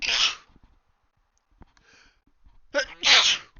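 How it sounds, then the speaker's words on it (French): A single sneeze bursts out near the start, followed after a pause by a louder two-part sneeze near the end, both close and sharp with faint breathing between. "Attendez, je vais éternuer"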